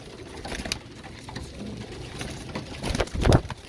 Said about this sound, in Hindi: ये डेनिश कबूतर है, ब्लैक डेनिश और वाइट डेनिश।